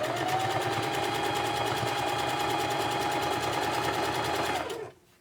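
A sewing machine stitching fabric pieces together runs in a fast, even mechanical rattle for several seconds, close and steady, before stopping abruptly near the end.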